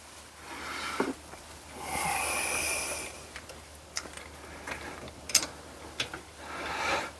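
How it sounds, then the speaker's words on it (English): Pressure brake bleeder being hand-pumped on a Jaguar XF, giving repeated mechanical ratcheting clicks and short hissing strokes at close range, with several louder pumping bursts and no talk. "Right, so I've pumped a bit of pressure in the system."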